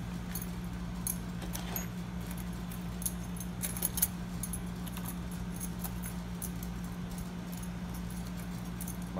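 Brass keys jangle and clink in a shop as a bundle is handled, with light metallic rattles scattered throughout and a few sharper jingles near the middle, over a steady low hum.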